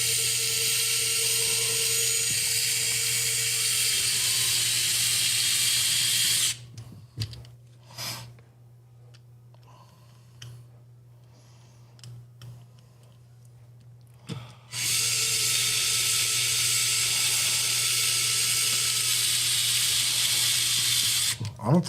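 Small power drill running during a TRX4 RC chassis kit build, a steady high whine held for several seconds, then quiet handling clicks, then the drill whirring again just as loudly, close to the microphone.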